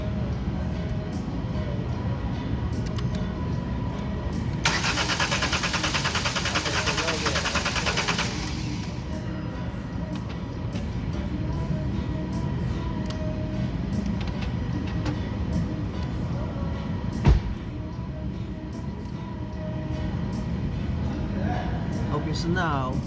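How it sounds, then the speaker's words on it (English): A 2021 Nissan Sentra engine cranks without starting: a burst of starter cranking lasting about four seconds rises over a steady background hum, then stops, and the engine never catches. "alright, so I'm gonna crank it now."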